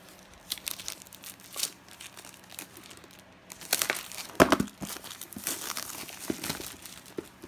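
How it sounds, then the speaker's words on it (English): Plastic wrapping being tugged and torn off a package, a Gfuel and Elgato HD60 S unboxing, with irregular crinkling and crackling bursts, close and fairly loud, building to sharper tearing rips midway, no talking. "Trying to get the plastic out first."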